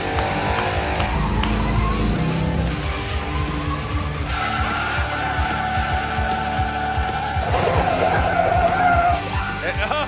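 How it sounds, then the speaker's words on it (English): A car doing smoky burnouts roars with heavy engine revving and long, loud tire squeal and skidding, continuous and close, with voices mixed in underneath. "Keep up all the smoky burnouts."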